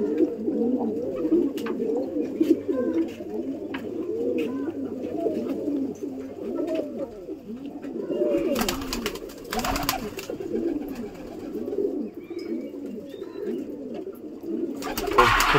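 Pigeons coo continuously in throaty, overlapping phrases while they feed, close by and steady, with a few brief bursts of fluttering or rustling partway through and no clear speech.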